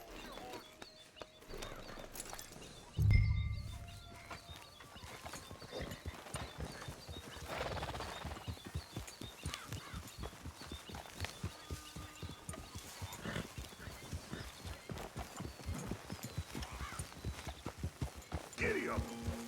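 Horse hooves clip-clop steadily in Red Dead Redemption II as the horse sets off and keeps riding, a brisk rhythmic trot with a snort near the start and characters talking over it.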